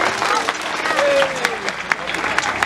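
Audience applause for a cooperative's general manager at a Children's Day celebration for students in Dajabón, a dense clapping patter with sharper individual claps and a voice speaking over it.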